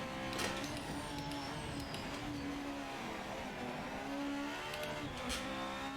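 A race car in the Project Motor Racing video game is driven on throttle through corners, its engine note whining and shifting pitch continuously at moderate level, with no voices.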